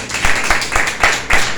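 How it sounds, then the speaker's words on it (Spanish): A church congregation applauding, brisk rhythmic clapping in close, even beats roughly every quarter second, loud and near. "Denle un fuerte aplauso al Señor."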